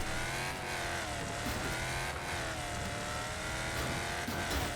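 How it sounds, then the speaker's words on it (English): A NASCAR-style race car in the Wreckfest racing game drones along with a continuous engine roar and scraping, grinding noise after a crash, steady and loud with no voices. "That was a huge wreck in that corner."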